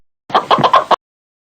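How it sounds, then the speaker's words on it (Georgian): A chicken gives a quick run of about four close, clipped clucks in under a second, clear and alone against silence. "ქათამი"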